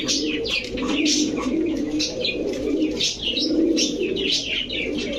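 Danish Magpie pigeons with bright red plumage coo steadily in a low, continuous murmur, with chirps and tweets from other birds layered above throughout.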